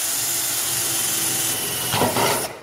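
A power drill bores a hole through a building wall panel ahead of fitting a rivet, a continuous whirring grind that rises and strains near the end before cutting off abruptly.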